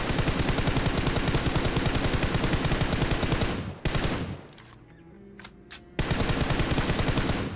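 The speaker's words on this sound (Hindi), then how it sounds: "सामने की तरफ से एक फायरिंग साउंड आया है" Gunfire in a mobile battle video game, dense rapid bursts of shots that cut out briefly for a quieter stretch with scattered pops, then resume loud and continuous.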